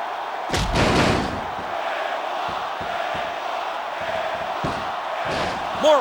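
Arena crowd in the WWE SmackDown! vs. Raw wrestling game on PS2, a loud roar of cheering with repeated heavy body slams and thuds landing over it.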